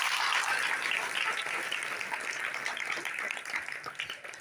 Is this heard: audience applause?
yes